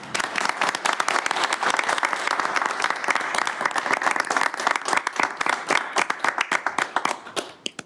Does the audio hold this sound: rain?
no